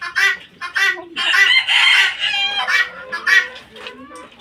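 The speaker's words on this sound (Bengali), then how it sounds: "আর এই যে মোরগ" A Brahma rooster crows and clucks close by in loud, hoarse, uneven bursts, with short pauses and no clear talking.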